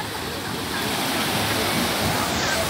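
Surf on the beach at Canasvieiras in Florianópolis, a shore full of children playing in the water: a steady, loud, broadband roar of waves washing in, with no clear breaks.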